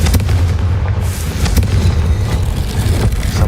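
A fire-spell blast from the game Hogwarts Legacy: low booming, rumbling bursts that fill the whole stretch, loud and close, with no voices.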